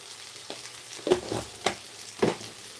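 Onions frying in a pan with chili powder, a low steady sizzle with a few sharp scraping stirs of a spoon against the pan, close and fairly quiet, with no voice.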